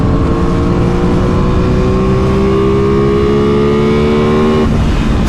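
Aprilia Tuono 660 Factory motorcycle engine droning steadily while riding, with harmonic tones rising slowly as it accelerates, loud and close with wind rush, then a sudden drop near the end as the throttle closes.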